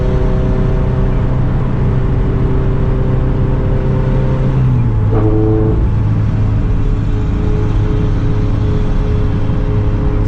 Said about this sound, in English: that blowout valve sounds crazy